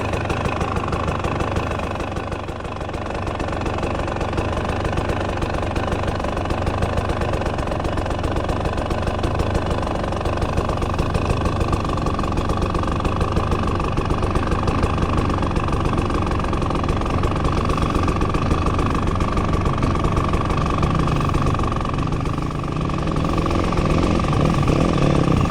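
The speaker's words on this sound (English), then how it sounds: "I'm gonna leave it in neutral because I'm scared to turn it off." A 2026 Husqvarna TE300 dirt bike idles in neutral with a steady, close, unbroken engine rumble that stays even throughout, and no talking.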